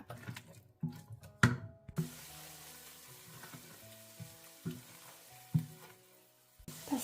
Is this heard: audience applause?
no